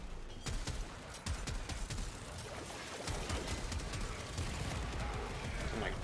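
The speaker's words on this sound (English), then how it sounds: "that's just a lot of explosions all at once" A barrage of overlapping blasts and gunfire in the video game Warframe, a continuous loud wash of crackling detonations that swells after a brief dip and keeps going without break.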